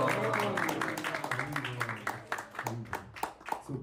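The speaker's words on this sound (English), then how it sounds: "Give a round of applause and Hari Bol." Crowd in a temple hall at a Wednesday feast lecture clapping in welcome, a burst of many hands mixed with cheering voices and chanting, loud and close, thinning toward the end.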